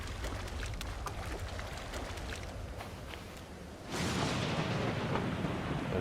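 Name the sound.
thunderstorm in video game Stranded Deep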